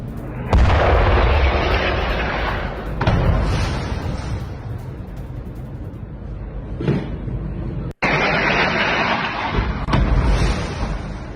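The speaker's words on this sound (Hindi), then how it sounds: "गाजा में इजराइल की मिडनाइट एयर स्ट्राइक में कई बिल्डिंग्स तबाह। चुन चुनकर हमास के ठिकानों पर बमबारी।" Explosions from an Israeli airstrike bombing buildings in Gaza, heard as loud, sustained booming rumbles with several heavy blasts across the clip and no talking.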